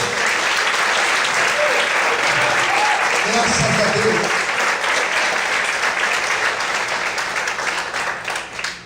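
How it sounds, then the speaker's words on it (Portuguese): A church congregation applauding loudly for God during a sermon, a thick, continuous roar of clapping with voices mixed in and an exclamation partway through, easing slightly at the end. "Vamos aplaudir a Deus muito forte."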